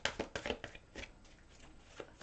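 Close, soft riffling and slapping of tarot cards being shuffled by hand, a quick burst of flicks that trails off into lighter taps.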